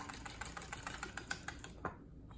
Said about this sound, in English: And I'm using whole milk. And then whisk together.